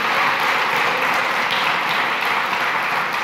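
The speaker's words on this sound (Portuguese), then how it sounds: "Aplauda o Senhor." A church congregation applauding during a worship celebration service, a steady dense wash of clapping that stays loud and even throughout, with no voices standing out.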